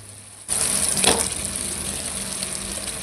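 Chopped tomatoes dropped into a pan of frying eggplant and potato, a sudden burst of sizzling after a quiet half second that peaks briefly, then settles into a steady, fairly loud frying hiss.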